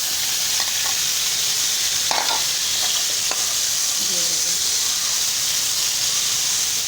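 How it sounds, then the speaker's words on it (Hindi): Spiced chicken pieces for shawarma fry in hot ghee in a pan, giving a steady close sizzle with a few stirring clinks and scrapes, and no talking. "अब हम इसमें ये मसाला वाला बोटी डालेंगे"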